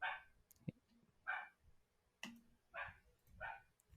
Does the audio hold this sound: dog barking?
yes